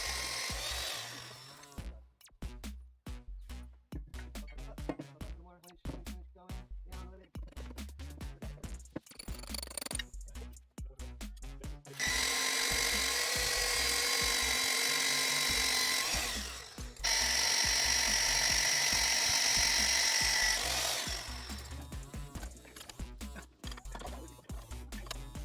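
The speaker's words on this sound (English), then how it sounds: "here we're utilizing the hole saw, or the mag drill on site" A magnetic drill with a hole saw cuts 3/4-inch holes on site at a barn, with a stretch of rapid percussive chatter giving way to two long, steady, loud whining grinds separated by a brief pause.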